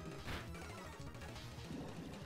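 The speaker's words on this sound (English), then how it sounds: "I was not expecting just an Aurora Beam out of nowhere" An Aurora Beam attack from Pokemon Black hits with a dense, loud burst of crashing, shimmering effect noise that lasts about two seconds.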